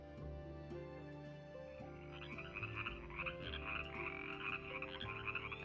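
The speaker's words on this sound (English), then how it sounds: "The park is also home to various wildlife, including the African bullfrog, one of the largest amphibians in the world." An African bullfrog croaks in a South African park wetland, giving repeated pulsing croaks that start partway through and continue over a steady, even tonal background, with no voices.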